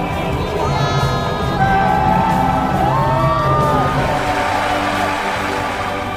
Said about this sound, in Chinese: 欢呼声经久不息